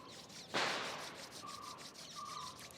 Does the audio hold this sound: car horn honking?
no